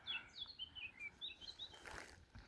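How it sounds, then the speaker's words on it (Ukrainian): Faint birdsong with a series of high, quick chirps and trills, heard alone against a quiet outdoor background. "Пташки співають, сонечко,"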